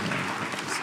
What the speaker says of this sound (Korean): 우리 박수 한번 부탁합니다.